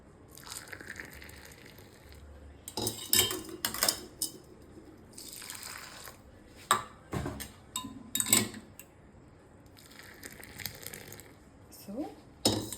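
A spoon stirs sugar coffee and jaggery coffee in cups, making bursts of quick metallic clinks and scrapes separated by quiet gaps, close and fairly faint.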